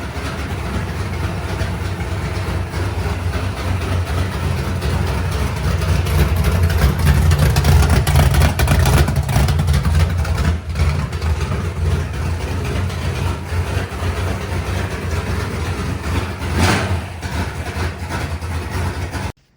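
A car engine runs at a steady idle for a long stretch, a loud continuous rumble with slight swells and no talking.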